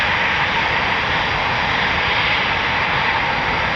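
Eurofighter Typhoon FGR4 jet at RAF Coningsby, a steady loud roar of engine noise filling the whole clip without any break or voices.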